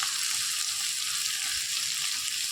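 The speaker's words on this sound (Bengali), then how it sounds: "এবার একটু পরিমাণ মতো নুন হলুদ দিয়ে আলুটা ভেজে নেব" Potatoes fry in oil seasoned with salt and turmeric, giving a steady, even sizzle with a soft hiss that holds level throughout and no voices.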